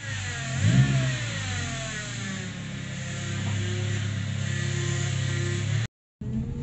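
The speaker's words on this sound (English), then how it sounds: "That is the power steering pump has decided to go kaput." A turbocharged 3RZ car engine runs steadily with a persistent high-pitched whine from a failing power steering pump layered over it, revving briefly at the start before settling, then cutting out near the end.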